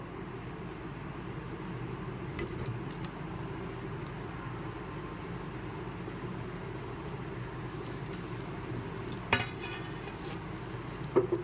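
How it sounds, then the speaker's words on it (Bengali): Paneer cubes fry in refined oil while being gently turned, giving a soft steady sizzle with occasional faint clinks and one louder scrape of a utensil against the pan. "রিফাইন অয়েল দিলাম পনিরগুলোকে হালকা নেড়েচেড়ে একটু ফ্রাই করে নিতে হবে"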